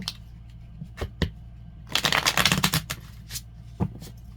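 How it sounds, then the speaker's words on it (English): Tarot cards shuffled and cut up close: a few soft isolated taps, then a dense riffling burst of card edges snapping together, followed by scattered light clicks, with no talking. "Oh, cut the cards. All right, we'll cut the cards."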